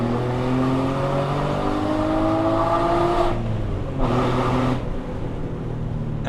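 A Porsche 996 with a flat-six engine and GT3 exhaust muffler idles and revs steadily, a loud, continuous exhaust tone with rising and falling engine pitch close by and no talk.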